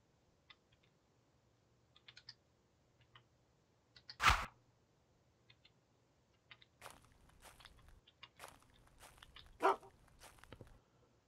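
A dog in the UnReal World video game yelps once sharply and loudly, then barks or chews again later, with scattered soft keyboard-like clicks between the louder bursts in an otherwise quiet scene.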